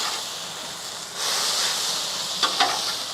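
Carne asada beef sizzles loudly on a Weber Slate 36-inch griddle, a steady close hiss that swells as the meat is flipped, followed by two quick scraping clinks of a spatula.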